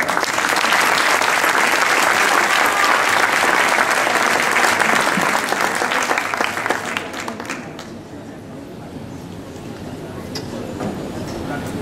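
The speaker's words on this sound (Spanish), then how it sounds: "Fuerte aplauso para Gabriela" Loud, dense applause from a festival singing-contest audience fills the air for several seconds, then thins out and fades to a quieter crowd murmur.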